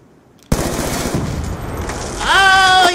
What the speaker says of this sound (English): they trying to shoot me